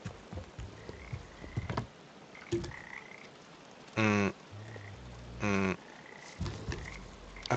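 Frogs croak in the video game Papo & Jo in two loud, close bursts of rapid rattling calls, set among quieter ambient game sounds and scattered clicks.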